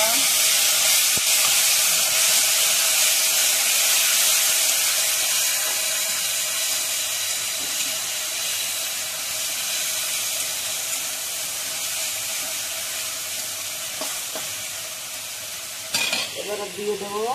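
Ground spice paste drops into a vegetarian vegetable curry frying in oil, setting off a loud, dense sizzle that slowly softens over many seconds. Clattering stirs come near the end, with some talk in the background.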